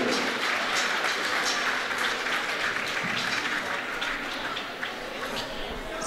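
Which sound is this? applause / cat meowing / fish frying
applause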